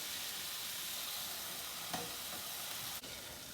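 Burger patties sizzle steadily in a hot pan, a dense continuous frying hiss with a couple of faint scrapes, close and even throughout with no talking.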